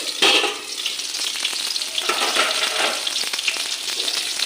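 Food frying steadily in a covered pan, a dense, bright sizzle that crackles continuously at close range and stays fairly loud throughout, with no voices.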